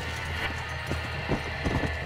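Horse hooves clip-clop in a light, uneven rhythm over a steady background hum, moderately close, in the video game Red Dead Redemption.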